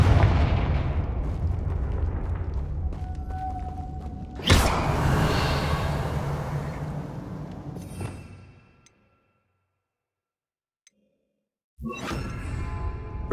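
In Hogwarts Legacy, the Confringo fire spell bursts with a sharp whooshing blast followed by a roaring rumble that fades into silence, then a second crackling burst near the end.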